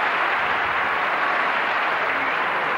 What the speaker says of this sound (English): prolonged applause for a really gutsy loser